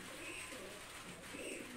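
Pigeon cooing from a pair of pigeons, a male and an old female running breed with blood-red eyes, a soft steady murmur close by with no talk.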